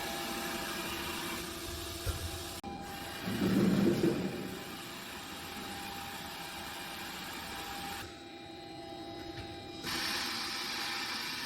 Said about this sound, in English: Now comes the core of the system, high-pressure continuous oil extraction